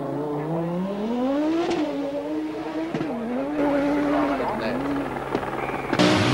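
A works Audi Quattro Group B rally car with an automatic gearbox: the engine climbs and falls in pitch through repeated revs and shifts, with a few sharp clicks and a louder burst at the end.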